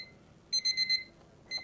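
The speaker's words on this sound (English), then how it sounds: "as soon as it hits the 9:31, it should kind of, that alarm should kind of go off" A mirror-display alarm clock goes off indoors with a clear electronic beeping in a quick run of four beeps, a pause, then another beep starting, fairly faint and alone.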